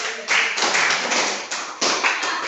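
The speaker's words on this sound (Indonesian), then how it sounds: "Aplaus untuk kelompok 4" A classroom of junior high school students at SMP Negeri 2 Gunungsitoli claps for a presenting group: brisk, close applause that starts after a brief pause and keeps going in a few surging bursts.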